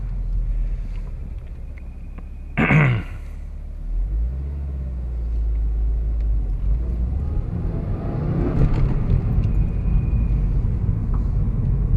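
A car accelerates, heard from inside the cabin as a low engine rumble that swells and grows rougher toward the end, with wind noise and a brief clunk early on.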